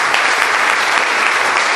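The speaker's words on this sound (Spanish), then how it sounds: "Démosle un fuerte aplauso al Señor Jesucristo" A church congregation gives loud, steady applause, a continuous dense wash of clapping that fills the whole moment with no talk over it.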